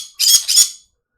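Birds squawk twice in quick succession, two short, sharp, close calls with a brief gap between them, then silence.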